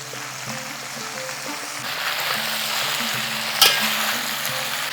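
Young jackfruit and potato pieces cook over a medium flame in a pan, giving a loud, steady frying hiss with a low hum beneath and one sharp clank as they are stirred, with no voices.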